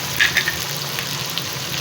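Chicken frying in a pan for chicken nihari, a steady close sizzle with a few brief clinks near the start.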